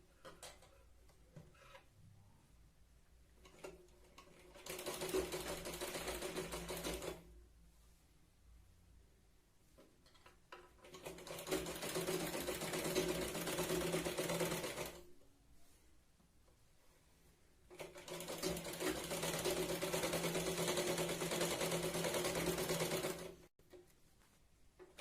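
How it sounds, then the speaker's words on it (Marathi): Sewing machine running a straight seam along the waist of a Katori blouse: three sustained bursts of fast stitching between quieter pauses, close and fairly soft, with light handling clicks. "आता इथे खाली कमरेकडेही आपण सरळ शिलाई लावून घेऊया."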